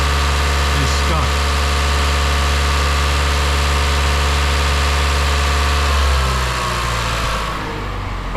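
A 2019 Mazda CX-5 with a stuck valve sits at a loud, high idle, its steady engine drone wavering before the revs drop and settle lower near the end.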